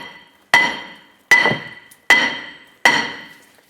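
A hammer strikes the back of a stuck brake rotor on a 2005-2010 Chrysler 300 during a rear wheel bearing and hub job, four sharp metallic blows evenly spaced with ringing decay after each.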